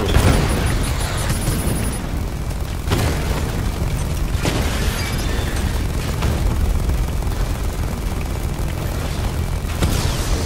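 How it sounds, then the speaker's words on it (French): A bomb detonates in Batman Arkham Knight, heavy rumbling booms rolling over dense game noise with several sharper blasts through the stretch. "Il faut faire sauter la bombe."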